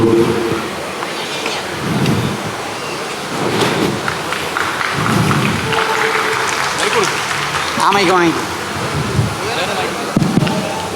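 A crowd applauds an introduction of actor Sajin Gopu at a public event, with dense, steady clapping filling the whole stretch and voices mixed in.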